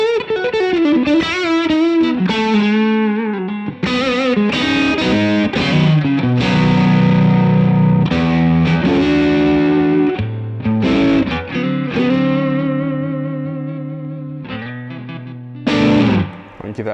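High-end S-style electric guitar on its bridge pickup through a heavy high-drive tone, played as loud, sustained distorted chords and bending single-note phrases with brief pauses between them.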